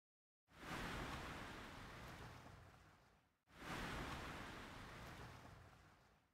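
Waves wash onto a shore at sunset in a video game beach scene, two long surging swells each rising fast and fading slowly, loud and close with no voices.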